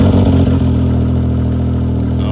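Can-Am X3 side-by-side engine revving hard at close range, a loud, steady mid-pitched roar with rev surges early on, running continuously at a drag strip with no voices.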